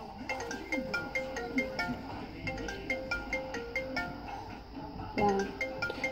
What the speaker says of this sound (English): Listen to this ringer.